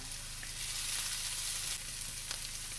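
Pork sizzles and browns in a hot pan with a steady close hiss and crackle, a few sharper pops rising briefly over the constant frying.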